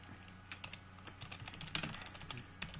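Rapid, irregular clicking from typing on a computer keyboard, close and fairly quiet, with keystrokes tapping steadily throughout and no voices.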